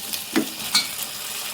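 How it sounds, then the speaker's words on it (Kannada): Leafy greens frying in a pan for a palya dish, a soft steady sizzle with two distinct scraping strokes of a spatula stirring them. "ಸ್ವಲ್ಪ ಇದನ್ನು ಸ್ವಲ್ಪ ಫ್ರೈ ಆಗಲಿ"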